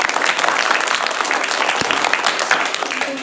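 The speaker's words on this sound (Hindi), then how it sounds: "बजाओ ताली।" A group breaks into steady, dense applause after a paper-cutting craft design is finished, a continuous patter of many hands clapping at moderate volume for a few seconds.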